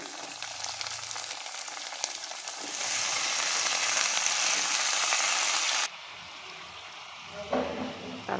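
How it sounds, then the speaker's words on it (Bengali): Onion and mixed vegetables fry in hot oil with a loud, steady sizzle throughout, swelling louder midway and then dropping to a softer hiss near the end. "তেলটা গরম হওয়ার পর পেঁয়াজটা আমি একটু লাল করে ভাজার পর দিয়ে দিলাম সবজিগুলো"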